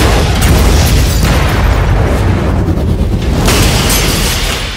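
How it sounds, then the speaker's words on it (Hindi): Cars exploding in a blockbuster action scene make a loud, continuous roar of booming blasts that fills the whole stretch, with surges and no pause. "रणबीर एक तोड़ू आइडिया है, film opens on shitty blockbuster, मतलब मिनिमम 50 कार्स का अंतिम संस्कार"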